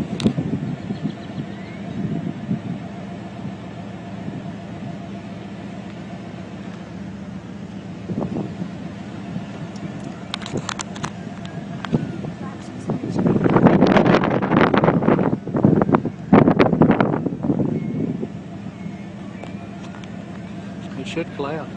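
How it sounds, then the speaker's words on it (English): Wind blows across an outdoor microphone as a low, blustery rumble, with stronger gusts buffeting louder toward the end while people talk intermittently. "with the wind blowing that way"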